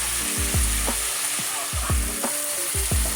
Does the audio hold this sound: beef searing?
yes